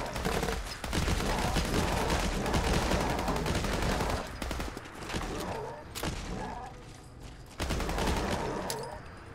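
Heavy rifle gunfire in the video game Fallout 4, sustained loud bursts of shots with dense rapid firing that briefly drops out around the middle, then resumes with booming impacts.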